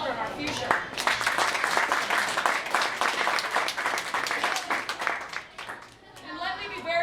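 A crowd at a school board campaign kick-off event breaks into sustained applause, dense clapping that thins out near the end while a few voices carry over it.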